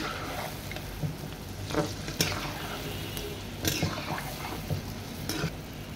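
Palm fruit fritters (taler bora) fry in oil over medium heat, a continuous soft sizzle with occasional scrapes and stirring clicks close by.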